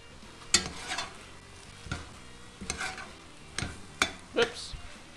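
Meat for chili browns in a pot as it is stirred, producing quiet intermittent bursts of sizzling and scraping about once a second, each swelling briefly and fading back to a low hiss.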